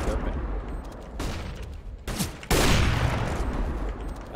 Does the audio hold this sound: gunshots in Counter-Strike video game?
yes